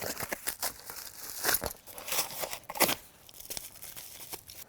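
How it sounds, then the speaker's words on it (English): Plastic packaging is pulled off a soft tri-fold tonneau cover for a 5.6 ft Dodge Ram 1500 bed, giving close, continuous crinkling and tearing with sharp rustling bursts and no talk. "Now we can remove all this packaging."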